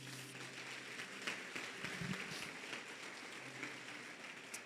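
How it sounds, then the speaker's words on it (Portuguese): Faint, steady applause from a church congregation during a Portuguese-language sermon, a soft continuous patter of clapping heard from a distance for several seconds. "se você crê nisso, aplauda ao Senhor Jesus"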